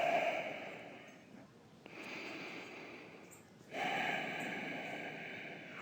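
A slow, deep breath during a beginner full-body yoga stretching class: soft, airy inhale and exhale swells, fairly close but quiet, with a brief pause between them and no talking.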